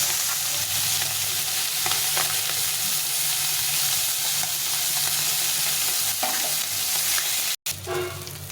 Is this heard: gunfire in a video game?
no